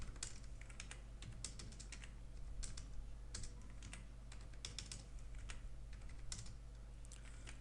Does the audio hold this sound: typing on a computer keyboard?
yes